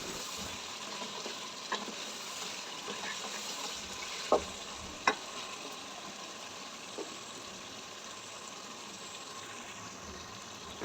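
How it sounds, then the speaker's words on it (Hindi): Mutton frying in a pan, a soft steady sizzle with a few sharp clinks of stirring, quiet and close with no talk. "मटन को तकरीबन हम 5 से 6 मिनट के लिए अच्छे से भुनेंगे।"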